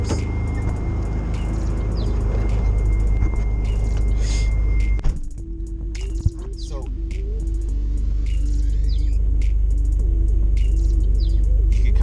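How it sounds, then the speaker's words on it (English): Failing power steering pump on a 1991 Mitsubishi 3000GT VR-4, heard from inside the car as a steady engine drone with a thin whine running through it, briefly interrupted midway before the hum resumes at a constant level. "that noise is my power steering pump"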